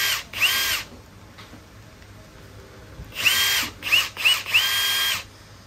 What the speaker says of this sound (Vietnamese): Cái cây búa dầu này thì mục đích là mình sử dụng, mình lắp ráp những cái kệ gỗ